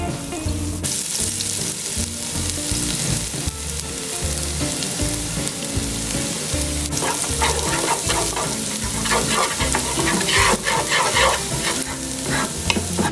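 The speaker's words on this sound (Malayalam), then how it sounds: "ഇതിലേക്ക് നമുക്ക് ആ ചെറുതായി അരിഞ്ഞു വെച്ചിരിക്കുന്ന വെളുത്തുള്ളി ഇട്ട് കൊടുക്കാം." Finely chopped garlic fries in hot oil for a Kerala-style dish, giving a loud, close, continuous sizzle with repeated rhythmic scraping and clinks of a spoon stirring in the pan, and no talk.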